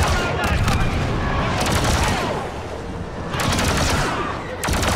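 Blaster fire in Star Wars Battlefront 2, dense overlapping volleys and rapid bursts at close range, loud and continuous through a battle din, with a voice speaking briefly beneath.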